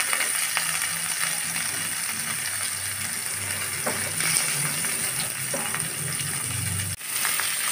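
Vegetables, including sweet pumpkin, hiss and sizzle in hot salted oil for a spinach dish, a loud, steady frying roar close by with occasional stirring scrapes and a brief dip near the end, no voices.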